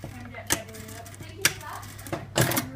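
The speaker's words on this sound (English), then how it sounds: "I'm going to just tack that under the machine. So you just need to do a couple of stitches." A sewing machine tacks a couple of stitches while attaching a jacket lining, heard as short mechanical bursts of clatter spaced apart over a low steady hum, fairly quiet and close.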